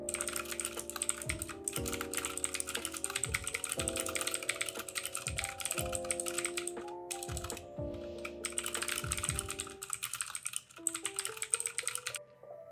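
Fast, steady typing on a computer keyboard as a greeting is entered in a Roblox session, dense clattering keystrokes running nearly continuously over faint game music, with a short pause before the tapping resumes.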